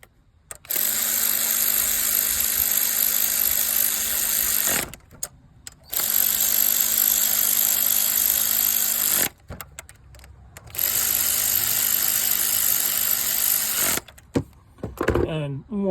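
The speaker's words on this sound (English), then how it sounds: "you don't have to use an electric ratchet to do these, but they sure does make your life easier" An electric ratchet removes spark plugs from a Ford 1.5 EcoBoost engine, whirring in three long, steady bursts separated by brief pauses and followed by a short final burst, with someone talking in the background.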